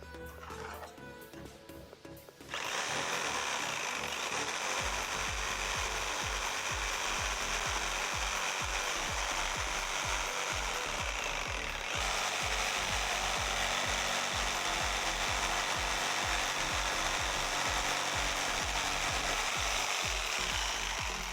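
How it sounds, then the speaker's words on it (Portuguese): Power tool cutting a pine board for a wooden towel rack, a steady loud mechanical whir with a rapid rattling texture that starts after a quiet opening and holds on, no voices. "Vou cortar ela em 30 centímetros de comprimento."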